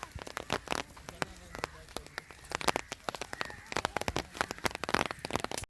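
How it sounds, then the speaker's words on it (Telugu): Rain patters and crackles on an umbrella at a beach, with dense, close, irregular drop impacts throughout and a voice talking briefly underneath. "వాన పడుతుంది, గొడుగు వేసుకుని వెళ్తున్నాను."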